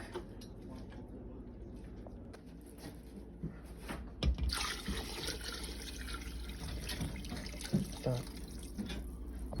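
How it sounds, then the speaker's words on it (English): Tap water runs into a cooking pot of dried beans in a home kitchen, a steady splashing, trickling fill with a few clunks and knocks of the pot close by. "we just gotta fill it up with water and let it cook"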